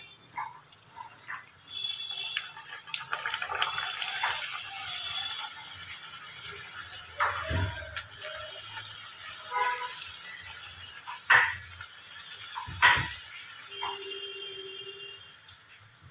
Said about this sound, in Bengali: এবার আমি এগুলোকে ভেজে নেব